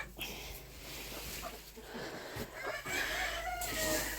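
Chickens cluck and murmur softly around a village farmyard, with a faint crowing note from a rooster among them, low and close against a quiet outdoor background.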